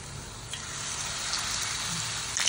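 Potatoes dipped in batter and dropped into hot oil for a Cajun-style recipe, giving a steady close sizzle of frying with a few brief clinks and bubbling bursts, no talking over it.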